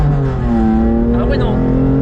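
Loud, sustained engine note from a stage 3+ tuned BMW M2 Competition, a steady rising harmonic drone, with a voice talking over it.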